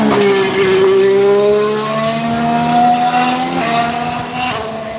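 A McLaren race car at a Barcelona test drives past with a loud, high-revving engine whine that climbs through the gears, close and dominant, fading slightly at the end.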